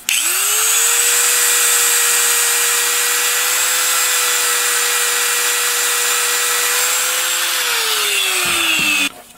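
An electric drill spins an abrasive disc on a mandrel against an aluminum V8 timing cover, starting with a rising whine, then holding a loud, steady high drone and winding down at the end, close and with no talking.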